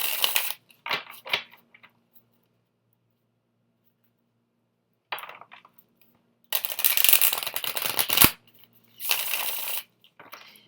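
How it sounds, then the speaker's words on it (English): A deck of tarot cards being shuffled by hand, crisp papery riffles and slaps arriving in separate bursts divided by stretches of silence, close and fairly loud. "I'm going to go ahead and shuffle our Fool into the deck"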